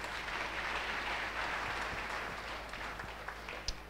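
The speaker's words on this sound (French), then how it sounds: "Acclamez bon Dieu pendant qu'il y a chita." A church congregation at a prophetic service claps and cheers, a steady dense wash of hands and voices sustained throughout with a sharper burst near the end.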